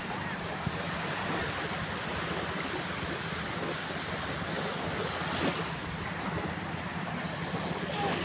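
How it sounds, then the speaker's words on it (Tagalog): Rough sea waves wash and roll continuously onto a beach at a resort in Quezon Province, a faint, distant surf roar mixed with wind buffeting the microphone. "Maalon ang dagat."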